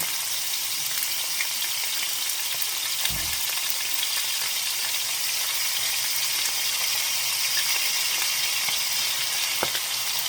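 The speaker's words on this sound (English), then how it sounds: "And now to sweeten it even further, honey in." Honey poured into a hot pan of sticky pork ribs with peppercorns, chili flakes and fennel seed sets off a loud, steady sizzle, broken by a couple of brief knocks.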